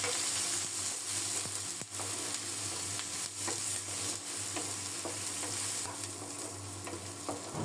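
Onions fry in a pan alongside chillies, a continuous close sizzle with faint scrapes and taps of stirring scattered across it.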